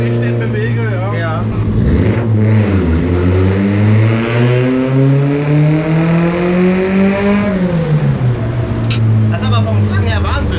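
An Opel Manta engine revs loud and close while driving in a parade, its note climbing steadily, holding high, then dropping back, with people talking over it inside the car.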